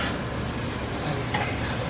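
Onions and peppers sautéing in a pan beside chicken breast, a dense, even sizzle filling the short stretch with a faint stir near the end, close and steady, nobody speaking.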